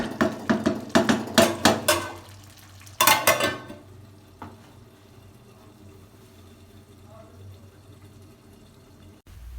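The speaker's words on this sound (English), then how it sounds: "So make sure you always stir it." Jollof rice gets stirred in a pot: a quick run of loud clattering scrapes and knocks for a few seconds, then a second short burst, fading into a quiet low hum with faint scattered taps.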